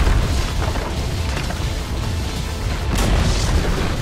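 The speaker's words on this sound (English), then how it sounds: "Dire's middle tower has fallen." A tower collapsing in Dota 2, heard as a sustained, heavy rumbling boom with crumbling debris and a fresh burst near the end, loud and dense throughout.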